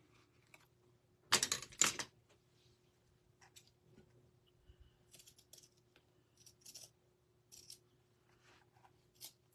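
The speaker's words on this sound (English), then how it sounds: "I need to throw these scissors away." Old scissors snip paper for a paper bag journal, giving a pair of sharp, louder cuts followed by scattered, quieter snips and clicks in a quiet room.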